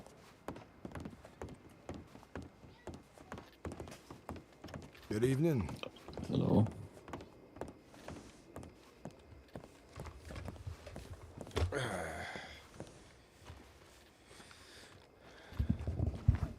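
A horse's hooves clip-clop in a western ranch roleplay video game, a light rhythmic patter running beneath near, steady talk, with a couple of louder bursts along the way.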